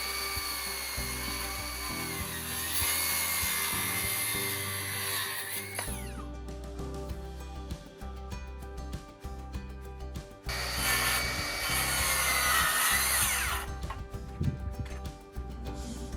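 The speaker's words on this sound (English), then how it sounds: "We made a cut along the length to process the edges of the adjacent plywood and insert it." A saw rips lengthwise through plywood while an entrance frame is being replaced, two long steady buzzing cuts with a quieter pause between them, close and fairly loud throughout.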